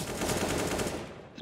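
A short, dense burst of automatic AK rifle fire in Counter-Strike, loud and continuous for about a second before it cuts off.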